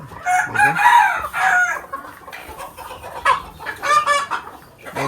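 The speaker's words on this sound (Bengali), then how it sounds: "এখানে আরো কিছু কুচা মুরগি আছে" Desi (native) chickens cluck and squawk close by in a confined farm, with a rooster's crow rising briefly among the busy, overlapping calls of a flock.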